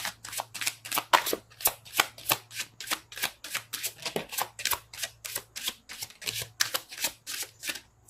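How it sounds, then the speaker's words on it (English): Tarot cards are shuffled in a quick, steady run of crisp riffling bursts, close and fairly quiet, with no talking. "Shuffle."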